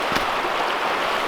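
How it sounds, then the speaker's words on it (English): A creek flowing beside a wooded campsite makes a steady, close rushing wash of water, unbroken and fairly loud with no voices over it. "There's the creek anyways."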